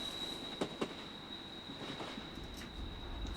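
A train rolls past at a distance with a faint, continuous rumble, a high steady squeal, and a couple of soft clacks.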